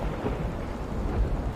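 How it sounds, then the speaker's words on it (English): Thunder rumbling through a torrential downpour with howling wind, a dense, steady roar of rain and low rolling booms that fills the whole stretch without a break. "You are still in torrential downpour with howling winds and thunder crackling overhead"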